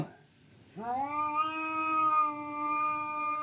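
After a short quiet moment, a cat lets out one long, sustained yowl that holds steady and loud for several seconds.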